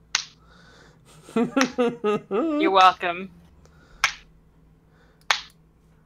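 Sharp finger snaps in a casual room, one right at the start and two more spaced out toward the end, with someone speaking briefly in between.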